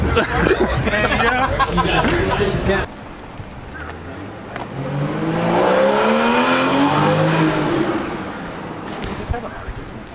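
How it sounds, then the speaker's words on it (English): A Porsche engine revs loudly and rises in pitch, holding a strong roar before easing off, with crowd chatter in the background at a car meet. "That dude in that Porsche was just like revving the piss out of that thing"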